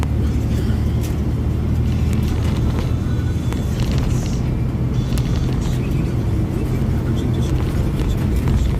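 A van drives through traffic, filling the cabin with a steady, loud rumble of engine and road noise that holds evenly throughout, with faint passing sounds on top.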